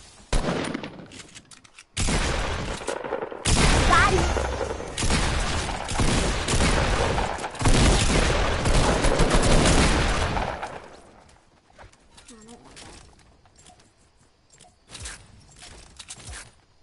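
Heavy bursts of gunfire crash in from a 50 vs 50 video game match, starting with a few sharp volleys, then a sustained loud barrage for several seconds before it thins out into quieter, sparse shots.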